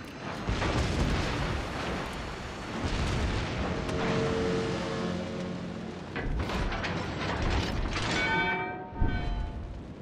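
Warship guns firing at a target in a naval combat video game, heavy booming blasts with rumbling mechanical clatter and ringing metallic tones across several seconds, with no speech.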